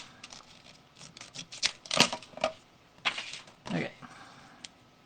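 Scissors snipping through designer paper while wrapping a card project, a series of short crisp cuts and rustles, close and fairly quiet, with brief louder snips in the middle.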